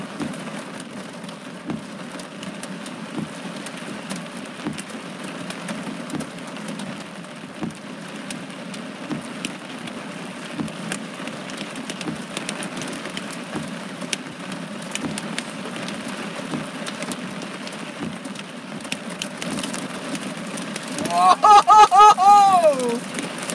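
Heavy rain pours down during a severe thunderstorm in Los Angeles, a dense continuous patter drumming on a vehicle, with a brief whooping voice rising near the end.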